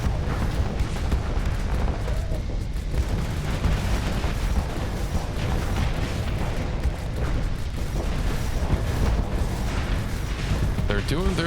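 Constant barrage of booming explosions and gunfire in a video game space fight, loud and sustained with no pauses, while someone talks over it.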